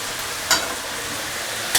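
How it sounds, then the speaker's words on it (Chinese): Bay leaves, star anise, peeled and seeded tsaoko and fennel seeds stir-fry in a wok with a steady close sizzle, broken by two brief scraping stirs. "香料也给它炒一炒"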